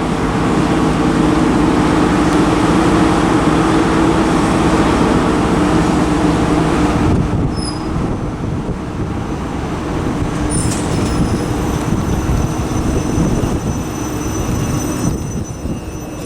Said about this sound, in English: Arriving now is the ScotRail service to Helensburgh Central.